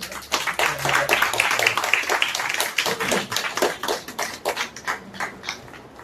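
Audience at a Tamil church family blessing meeting claps for a gift presentation, a fairly loud, dense patter of hand claps that thins slightly toward the end, with faint talk underneath.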